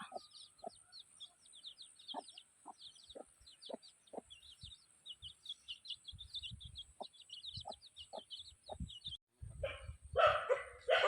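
Dogs bark in short, scattered bursts somewhere off at a distance in a remote forest village, mixed with hens clucking nearby, all fairly quiet.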